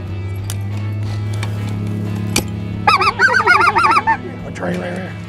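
Specklebelly goose giving a rapid burst of repeated high honking yelps amid a hunt, loud and close over a steady low engine-like drone, with a single sharp knock earlier and a faint squeaky follow-up call.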